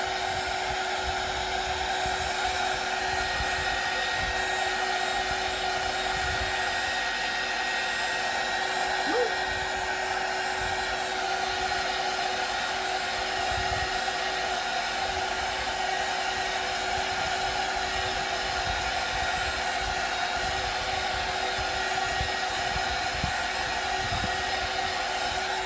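A hair dryer blows steadily on a watercolor holiday card, a continuous close whooshing hum that runs unbroken throughout.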